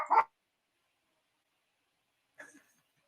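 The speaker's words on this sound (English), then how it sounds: "Sorry, my dog." A dog gives two short barks indoors, the first sharp and fairly loud, the second fainter after a long silent pause.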